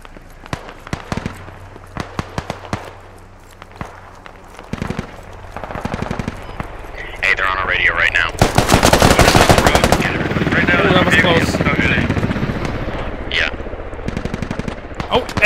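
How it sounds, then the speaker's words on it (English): Gunfire in a Squad infantry battle, with Russian forces entering Afghanistan: scattered distant single shots build into dense rapid automatic bursts, loud and sustained over background battle noise. "I hear shots."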